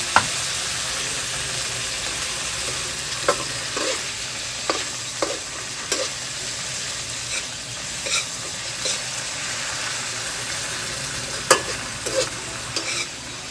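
Malunggay leaves crackle and sizzle in hot cooking oil, a steady close hiss with scattered sharper pops and spatters throughout, no voices.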